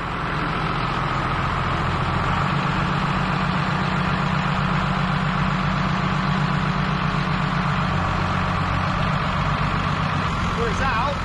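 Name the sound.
tractor engine idling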